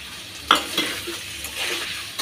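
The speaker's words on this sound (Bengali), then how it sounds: "এখন প্রথমে আমি এখানে হলুদ আর লবণ দিয়ে গাজর আর ডিমগুলো একটু ভেজে নিতেছি" Carrots and eggs fry with turmeric and salt in a pan, a steady sizzle broken by a sharp utensil scrape and several lighter stirring clinks.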